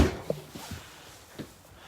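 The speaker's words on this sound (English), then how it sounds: "the drawers are the full roller glide drawers, so you can get to the back of the drawer because they come out all the way" A full-extension roller glide drawer in a 2020 Forest River Wolf Pack 315 toolbar RV kitchen gives a few short, soft clicks and rolling bumps as it slides, close and quiet.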